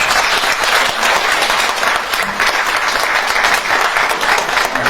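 A theatre audience at a jubilee evening in the Griboedov Theatre claps in a dense, loud, sustained round of applause that runs evenly from start to finish.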